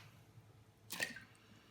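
Cleaned vegetable pieces dropped into a pot of water for broth make a single soft splash near the middle, faint and brief against a quiet kitchen background.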